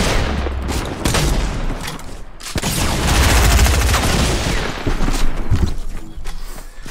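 Loud, dense gunfire from a gun in the video game Fortnite, sustained bursts and shots packed into a continuous barrage.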